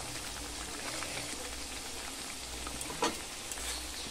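Fenugreek greens are added to a bubbling curry in a pan and give off a steady, close sizzle and crackle. A single utensil clink is heard near the end, with no talking.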